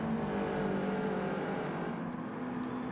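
A McLaren race car in Gran Turismo 7 at San Francisco, its engine a steady high-revving drone that holds at constant pitch throughout, loud and close without talk.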